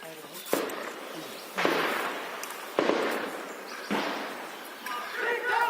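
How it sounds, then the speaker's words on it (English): Gunfire from soldiers in a Kashmir village during a raid on a suspected militant: four loud, sharp cracks ring out at irregular intervals, each one echoing and decaying across the open surroundings. "The shooting continued for several hours."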